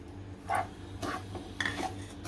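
Mango pickle being mixed with salt in a large pot, a few quiet scrapes and clinks of a spoon against the vessel in short separate bursts over a soft background.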